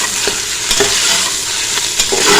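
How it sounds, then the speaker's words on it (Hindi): Mutton sizzles loudly while being stir-fried with ginger and garlic for kachnar gosht, a close, continuous frying hiss broken by a few sharp scrapes of a spoon against the pot. "तो अदरक लहसुन के साथ लाजमी भूनना"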